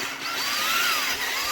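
A power drill whines briefly while boring a hole during construction of an appendix holster rig with side carrier, a close high-pitched spinning tone rising and falling over about a second and a half.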